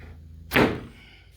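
A 3D-printed Lamborghini Aventador replica door swings shut with a single solid thunk, close and fairly loud, followed by a short fading rattle. There is no talking.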